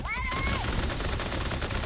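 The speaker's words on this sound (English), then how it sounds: "Whoa, who's shooting at me?" Gunfire rattles in an online shooter game, a rapid burst of shots aimed at the player with an assault rifle in play, dense and loud throughout, with a short voice-like tone at the start.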